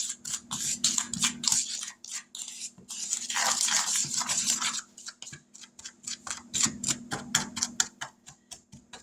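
Someone stirs dry chicken Rice a Roni seasoning of white pepper, garlic and onion powder, making a quick, rhythmic series of close scraping and tapping strokes, briefly thickening into a denser rustling swirl midway.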